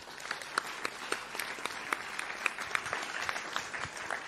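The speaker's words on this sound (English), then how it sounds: "Please give a big round of applause for Sjoukje Heimovaara." An audience applauds at an award ceremony for the Food Systems Innovation Challenge, with dense, steady clapping from many hands and sharp individual claps standing out throughout.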